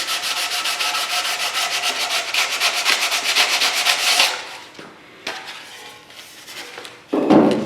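Steady, loud rubbing strokes of sandpaper worked along the edges of a Mustang Mach 1 deck lid extension, a fast even rhythm for about four seconds, then scattered scrapes, a brief handling clatter and a final short rasp close by.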